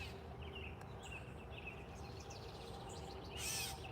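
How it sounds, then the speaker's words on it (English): An agitated bird calling near its nest beside a garden bed, giving several faint, sharp chirps and short calls over quiet outdoor background noise, with no talk. "This is why this bird is mad at me."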